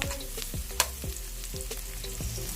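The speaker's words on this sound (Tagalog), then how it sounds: "Sunod natin nalagay yung ating garlic. Ayan, haluin haluin natin." Garlic sautéing in a pan, with a constant frying sizzle and repeated spoon scrapes and taps as it is stirred at an even rhythm, close and clear with no talking.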